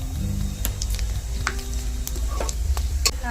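Whole garam masala, cumin and reddened curry leaves crackle and sizzle in hot oil as they are gently stirred, with close, steady frying hiss, scattered sharp pops and light spoon scrapes against the pan.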